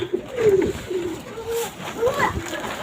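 Pigeons coo in a few soft, low, rolling calls close by, repeated through the moment alongside faint background chatter.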